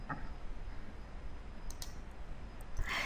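A computer mouse button clicked in accounting software: two or three faint, brief clicks over a quiet, hissy background.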